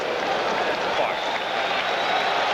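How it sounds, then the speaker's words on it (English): A packed baseball stadium crowd at a 1984 Mets game roars in a steady, dense wash of cheering and clapping, building as the crowd urges a strikeout, with a broadcaster's voice partly mixed in. "And the crowd wants the strikeout. Sounds like Shea now."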